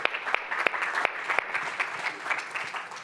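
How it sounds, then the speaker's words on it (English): A room audience claps for a guest who gave a talk that morning at a tech event, dense steady applause with sharp individual claps standing out, sustained for about three seconds without speech. "Let's give him a round of applause."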